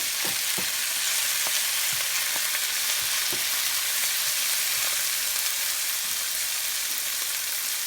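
About four cups of chopped spinach fries in a pan, giving a loud, continuous, dense sizzle with faint ticks and pops scattered through it and no voices.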